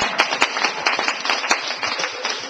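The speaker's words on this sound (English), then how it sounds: "Let's give it one more applause." Comedy club audience applauding, a dense wash of clapping from many hands with a few sharper claps standing out, steady and fairly close for the whole stretch.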